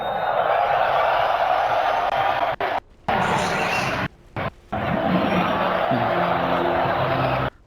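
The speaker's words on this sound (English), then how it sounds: "As we can hear, indeed, the crowd getting very excited" An esports crowd at the Dota 2 Manila Major roars in a sustained, loud wash of cheering and noise, broken by a few brief dropouts, with a faint voice near the end.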